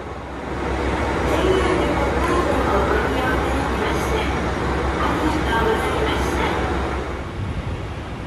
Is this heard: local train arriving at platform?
yes